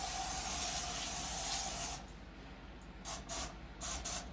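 Crisco butter cooking spray hisses in one long continuous burst, then two shorter quick bursts follow after a pause, close and clear with no talking.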